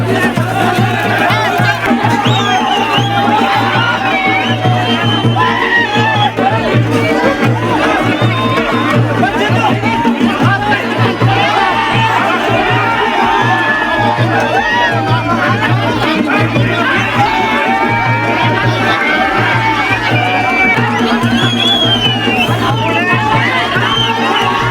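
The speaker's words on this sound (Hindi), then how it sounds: "नीचे चौक की तरफ भाई काफी ज्यादा भीड़ भाड़ हो रखी है" A large crowd packs a square at the Maa Nanda Patti Kauthig festival in Uttarakhand, a dense, continuous babble of many voices with steady background music and hum running loud throughout.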